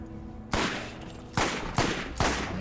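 Gunfire in the Borderlands video game at a bandit camp: four loud, sharp bursts of shots, each cracking in hard and trailing off into echo, spaced unevenly with brief quieter gaps between.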